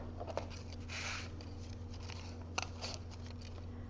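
Scissors snip through cardstock for a handmade Christmas card: a few quiet, crisp cuts stand out against a faint steady background hum.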